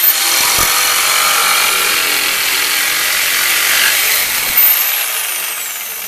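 A saw cuts the corner off a wooden longboard skate deck, making a loud, steady, harsh grinding whine that holds for several seconds and then eases off as the cut finishes.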